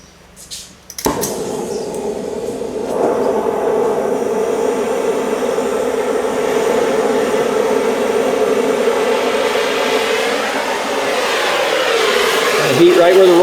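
An oxy torch blasts a steady roaring hiss while heating a seized stalk roll on a John Deere 40 or 90 Series corn head, loud and continuous for several seconds, with voices talking over it.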